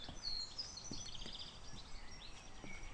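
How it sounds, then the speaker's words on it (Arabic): Birds singing in the garden of Ulriksdal Palace in Stockholm, faint scattered chirps and short calls over quiet ambient background. "يعني تسمع طيور أشكال وألوان،"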